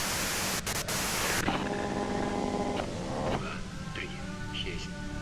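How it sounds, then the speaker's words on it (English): Steady hissing white noise from the video game Disco Elysium fills the clip, giving way to a quieter static bed where a voice is speaking. "you can do it through the white noise"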